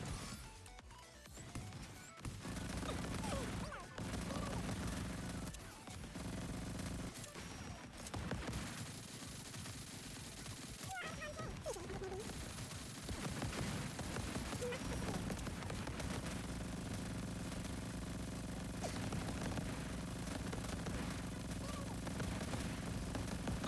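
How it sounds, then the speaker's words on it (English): Rapid gunfire from characters' normal attacks in a video game with 2B and Scarlet, dense bursts of shots over busy game sound effects and music, with brief gaps between volleys. "we'll be using pure attack, just using 2B's and Scarlet's normal attack with no bursts at all"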